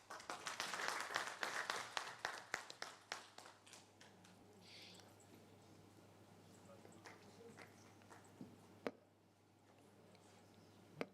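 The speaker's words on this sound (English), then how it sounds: "So maybe another round of applause for Dr. Sylvain." Scattered audience applause after a presentation at a net-zero energy conference, a few seconds of fairly close clapping that thins out into isolated claps and quiet room noise.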